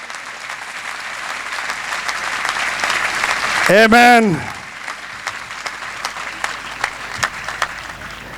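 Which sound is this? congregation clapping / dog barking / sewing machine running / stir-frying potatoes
congregation clapping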